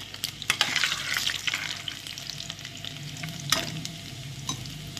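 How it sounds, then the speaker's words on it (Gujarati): Garlic dropped into oil with cumin seeds already reddened and frying, giving a bright crackling sizzle with stirring scrapes, close and steady, no talking. "હવે જીરું લાલ થયું એટલે લસણ નાખી દેવાનું."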